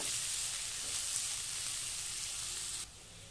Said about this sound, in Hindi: अब इसे इसका कलर चेंज होने तक फ्राई कर लेंगे।